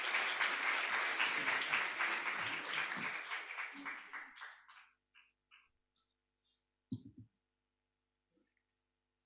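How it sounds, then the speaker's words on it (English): An audience at the International Congress on the Care of Creation gives a round of applause for a named guest; the dense clapping is loud at first, thins out and fades over several seconds, then a few stray claps and clicks follow. "a round of applause for Milagros."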